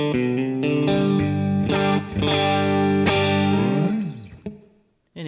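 Electric guitar through a Marshall Bluesbreaker overdrive pedal plays a run of sustained, gritty chords and bent notes, loud and up front, fading out before a brief final strum.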